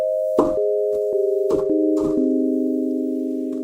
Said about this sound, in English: it'll be a short, like a sort of sine wave type sound. I want really long release on it.